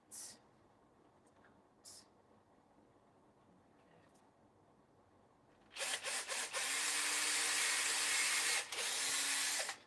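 After a quiet stretch with a few faint clicks, a power drill whirs steadily into wood, loud and close, with brief stutters in its high grinding whine.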